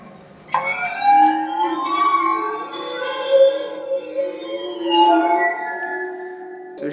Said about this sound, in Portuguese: O som sai aqui pelo cano e por essas hastes aqui, tocadas, né, com arco de violino.